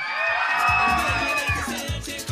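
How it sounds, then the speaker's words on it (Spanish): A crowd at a weekend fair event in Vallecillo applauds and cheers for couple number one, with loud sustained cheering, whoops and rhythmic clapping close by, and a quick voice near the end. "Aplauso para la pareja número uno"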